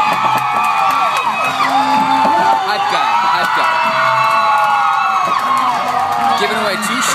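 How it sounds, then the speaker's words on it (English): A TV studio audience at a live dance competition show cheers, whoops and shouts nonstop, loud and dense throughout. "you can hear the audience is really excited. They're starting to like cheer and stuff."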